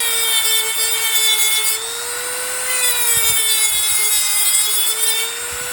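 A Dremel rotary tool grinds against metal car roof trim on a 2011 Ford Taurus, a close, high continuous whine with shifting pitch and a brief dip partway through before it resumes, with no talk over it.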